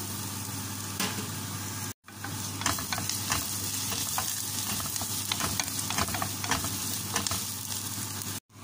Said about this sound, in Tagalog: Naglagay na tayo ng mantika sa ating kawali. Susunod ko yung sibuyas. Lagay natin yung ating bawang.